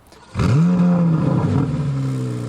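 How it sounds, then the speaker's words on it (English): A 2023 Corvette Z06 engine roars up sharply after a quiet moment, then holds a deep, steady exhaust rumble through centered exhaust outlets that slowly eases off. "This floating design was key to the precise tuning in the exhaust note."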